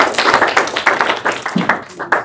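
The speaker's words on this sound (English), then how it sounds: "Clap." A small group at a student senate meeting claps in a brisk, uneven patter of close hand claps for about two seconds, with a brief voice near the end.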